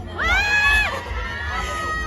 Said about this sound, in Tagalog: pakinggan nga natin yung palakpakan sa side na to